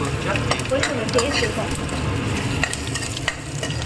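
Spices tempering in hot ghee sizzle and crackle steadily with occasional stirring clinks, a continuous frying hiss close by.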